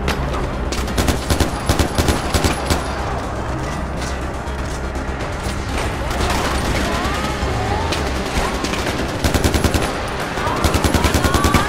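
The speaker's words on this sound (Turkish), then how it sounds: "Bunlar beni nereden vuruyor ya?" Gunfire in the Far Cry 4 video game: loud rapid bursts of automatic fire crackle repeatedly throughout, with dense fusillades near the start and end and brief lulls between.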